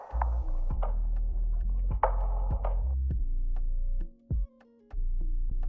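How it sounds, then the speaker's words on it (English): An Afrobeat percussion loop built in FL Studio thumps and clicks in a repeating groove over a deep sustained bass tone, then briefly cuts out before the pattern resumes, loud and close. "The perk loop actually sounds like this"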